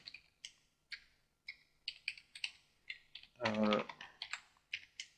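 Quick bursts of keystrokes on a computer keyboard clatter at close range, irregular clusters of taps with one brief spoken word in the middle.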